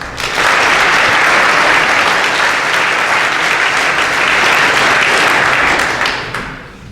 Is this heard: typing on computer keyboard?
no